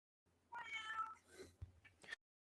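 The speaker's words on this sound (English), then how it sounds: "that cat is making all the noise" A pet cat named Ariel meows indoors, a run of drawn-out, wavering meows with a short pause and a brief final chirp, close and fairly quiet with no talk.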